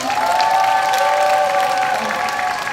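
Loud, dense applause from a seminar audience with some cheering mixed in, sustained without pause across the whole stretch.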